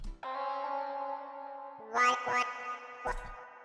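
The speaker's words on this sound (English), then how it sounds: "which really gives it a radio kind of sound" A vocal run through a radio-style EQ preset, sounding thin and band-limited, with long sustained tones followed by short chopped syllables and a few brief bright bursts near the end.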